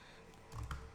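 A computer keyboard is typed on into a Google Meet whiteboard plugin: a short, soft burst of a few keystrokes toward the end, fairly quiet and close, with no talking.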